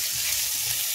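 Onion frying in a pan with goat meat, giving a steady, dense, close sizzle with no pauses or voices.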